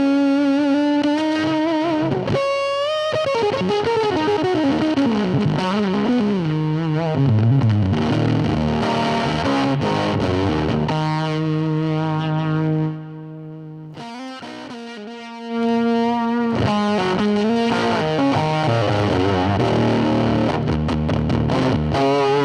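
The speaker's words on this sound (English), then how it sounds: "that would be a fuzz into a Fender amp" Electric guitar played through a fuzz pedal into a Fender amp: loud, sustained distorted lines and chords with a brief drop to a quieter held note partway through, no talking.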